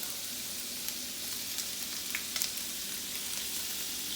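Large shrimp frying in a hot pan, a steady bright sizzle with a few faint pops, continuous and fairly quiet at close range.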